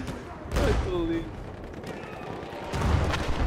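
Explosions and gunfire from the Battlefield 1 video game, heard as dull low booms and bursts at the start and near the end, with a steady rumble in between and a voice talking over it.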